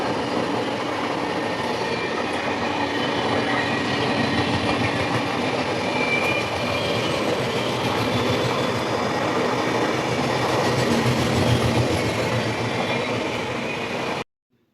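A train running right beside a house in Rajahmundry, a loud, continuous close rumble of wheels and carriages with faint clatter, holding steady for about fourteen seconds and then cutting off.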